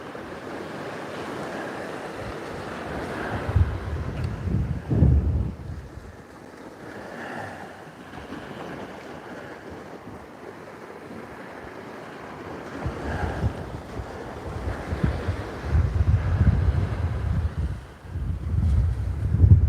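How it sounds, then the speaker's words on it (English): Surf and rising wind on an open beach during a fishing session: breaking waves swell and recede in uneven surges while gusts buffet the microphone, loud and close, with no talk. "This wind's starting to pick up."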